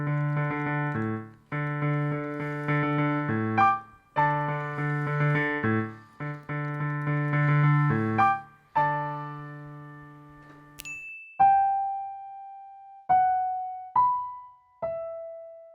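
An easy pop song on piano played with both hands: repeated left-hand chord blocks under a melody, then a few single sustained high notes ringing out alone, close and clean.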